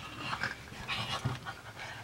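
Dogs panting in rapid, breathy bursts while being played with indoors, close and moderately loud with no talking.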